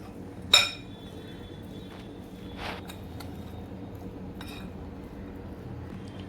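A spoon gives one sharp clink against a pot while stirring soft sabudana mixture with a little grated coconut, followed by faint, quiet scraping and light taps.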